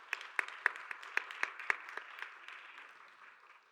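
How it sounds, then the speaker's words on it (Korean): A small group at a church young adults' Sunday service claps, starting with distinct rhythmic claps that soon blur into scattered applause and fade away. "박수로 환영하겠습니다."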